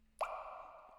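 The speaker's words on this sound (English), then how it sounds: "another rim, and this water drop" A single short, bright water drop plop, quiet and close, with a brief ringing tail.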